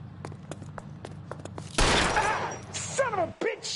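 Gunfire in the video game L.A. Noire: a burst of loud, close shots with a quick volley and ringing tails, over a busy game background, followed by someone shouting.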